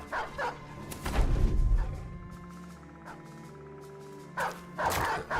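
Dogs bark in the video game Battle Brothers, with several short, sharp barks and yips coming in separate bursts at the start, middle and end over a quiet, low game background.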